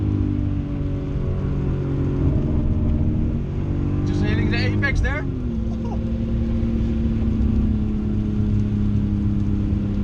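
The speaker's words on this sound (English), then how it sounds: "Oh, this engine wants to go." A BMW E46 M3 engine drones steadily on a race track, holding a loud sustained tone that shifts pitch briefly midway, heard from inside the car while someone talks over it.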